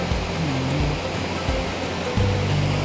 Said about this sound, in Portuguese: do lado esquerdo tem cachoeira também